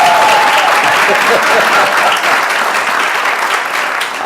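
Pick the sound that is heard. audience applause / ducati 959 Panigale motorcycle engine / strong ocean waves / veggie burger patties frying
audience applause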